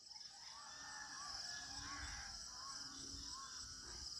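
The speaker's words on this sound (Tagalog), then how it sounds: "Yung napakarami ng mga uwak sa lugar na ito." Several crows perched on power lines caw repeatedly, harsh calls overlapping from a moderate distance, over a steady high-pitched hiss of background noise.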